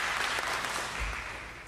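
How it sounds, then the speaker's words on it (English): Audience applause at a lecture on the assassination of Malcolm X, a dense, steady clapping from a crowd that holds even throughout before cutting off. "give him a round of applause"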